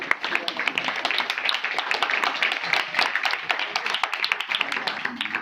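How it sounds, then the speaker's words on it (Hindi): Church congregation clapping together, a dense, steady patter of many hands filling the room, with voices mixed in throughout. "बाजी ली तालियां बजाओ"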